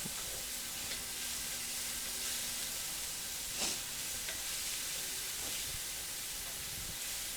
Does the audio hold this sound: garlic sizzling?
yes